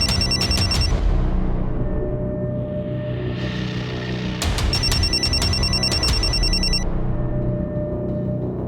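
A telephone rings in two bursts of rapid, bell-like trills over a low background hum, loud and close, with a pause between rings.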